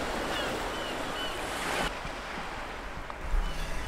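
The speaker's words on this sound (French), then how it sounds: "on est sur le bord de la mer, on entend les vagues" Steady broadband roar of sea surf washing ashore on a Norwegian coast, with wind buffeting the microphone and a brief louder swell near the end.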